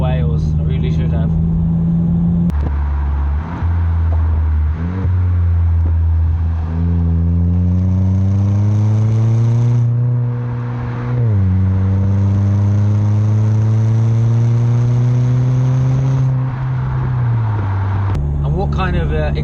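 Jaguar XE fitted with a new aftermarket exhaust, its engine droning and rising in pitch through sustained acceleration for most of the stretch, loud and close, with a brief lift partway and talk heard near the start and end.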